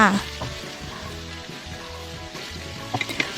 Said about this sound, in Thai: แล้วก็ผัดเข้ากันแบบนี้ละค่ะผัดให้เข้ากันเลยค่ะ